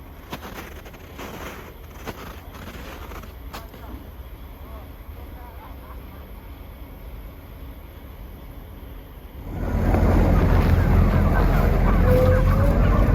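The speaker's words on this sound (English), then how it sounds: "Birds are on there inside the drawers." Chickens on a poultry farm are loaded into drawers on a semi truck, clucking faintly among machinery noise before a loud steady mechanical roar takes over, with a voice talking.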